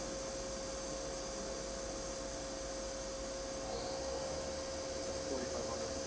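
A Milltronics vertical machining center spindle spins at 3000 RPM, giving a steady loud whine with a sustained tonal hum over broad machine noise, unbroken throughout.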